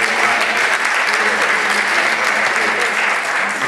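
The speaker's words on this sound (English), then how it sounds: "You can put your hands together." Steady, loud applause from a town hall audience with the Flint mayor, dense clapping filling the whole stretch without a break.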